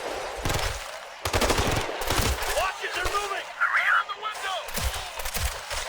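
Rapid automatic gunfire bursts from the shooter game Ghost Recon Future Soldier, sharp repeated volleys close in the mix, while a player talks excitedly over the shooting.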